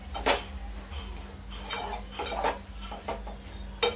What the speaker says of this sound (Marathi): परत एकदा छान मिक्स करून घेऊया